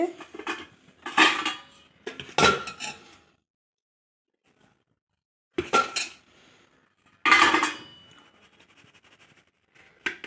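Ground roasted grain flour for a children's health mix is sifted through a sieve into a dry vessel, heard as a few sharp metallic clinks and knocks in separate bursts with silent gaps between them.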